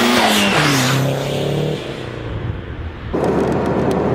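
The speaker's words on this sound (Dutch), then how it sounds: "Echt een van de meest waanzinnige auto's met woes woes noises." A Renault 5 GT Turbo fitted with a hybrid turbo revs up close by. Rising and falling engine tones give way to a rough, loud rush of exhaust and turbo noise, with no talking.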